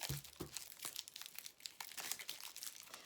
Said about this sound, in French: Maintenant, on va prendre des cartes pour terminer